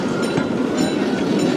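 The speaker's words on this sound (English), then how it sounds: "Oh, I nearly got run over by a train there." A theme park train at Europa Park rumbles past very close and loud, with a steady roar of wheels on track for the whole brief moment.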